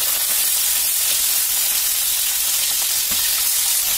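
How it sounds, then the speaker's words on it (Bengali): Salted, turmeric-rubbed local tilapia hisses and sizzles in hot white oil in a heated wok, a dense, steady frying noise filling the whole stretch with no voices. "এখন লবণ হলুদ মাখানো দেশি তেলাপিয়া মাছ তেলের ভিতরে দিয়ে দিলাম"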